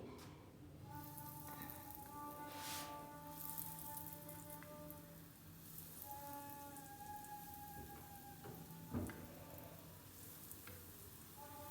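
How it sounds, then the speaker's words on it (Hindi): Potato balls shallow fry in hot oil in a pan, a steady soft sizzle and crackle with scattered pops, faint and close, while a voice talks over it. "इसको हमने करना है शैलो फ्राई।"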